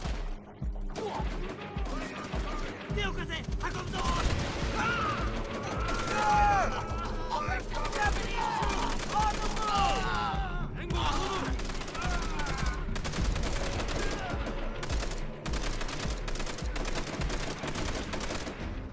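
Call of Duty: World at War battle gunfire rattles continuously, with overlapping rifle and machine-gun shots and crashes in a dense firefight while voices shout over the din.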